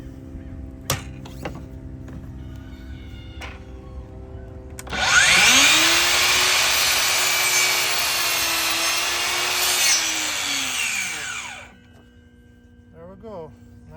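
A DEWALT DCS714B cordless 20V MAX XR miter saw spins up and cuts a 45-degree bevel through rough lumber, giving a loud whining buzz for about seven seconds before winding down into quiet.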